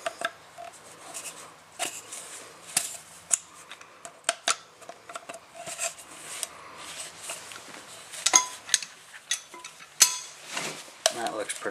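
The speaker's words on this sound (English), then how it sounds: "just some channel locks, and there she goes, taking little chunks of plastic off that burr edge" Channel lock pliers nip small chunks of plastic off a burr edge, giving a series of sharp, close clicks and snaps at irregular intervals, with quieter handling rustle between them.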